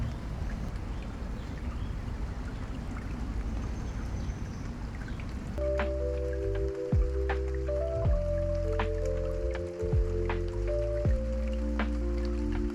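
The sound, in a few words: rain falling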